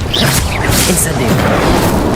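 Incendio fire spell cast in Hogwarts Legacy, a loud whooshing burst of flame with a booming roar filling the whole moment, with faint game sounds beneath.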